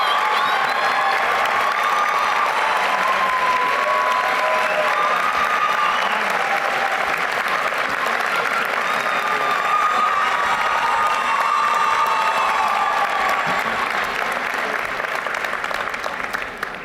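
A large audience claps steadily at a university commencement, loud sustained applause with a few cheers rising throughout and fading slightly at the end.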